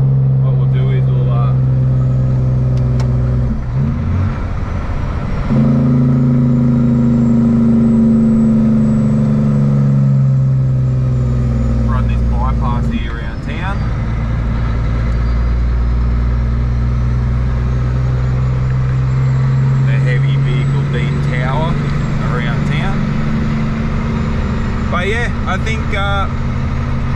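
Car engine drones steadily on a road trip to Broken Hill, a low continuous hum with rising revs, heard under ongoing conversation from inside the vehicle.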